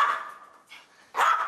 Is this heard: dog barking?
yes